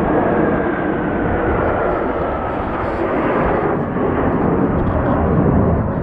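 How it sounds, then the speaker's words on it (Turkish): Two fighter jets flying over Gyumri, Armenia, make a steady, loud, broadband roar that holds without break through the whole stretch. "Savaş uçakları yakaladık."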